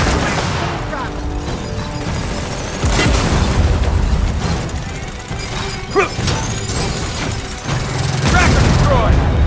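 Gunfire crackles amid booming blasts as a tracker explodes in Gears of War 4 combat, with loud thumps and bursts mixed under frequent shouting voices.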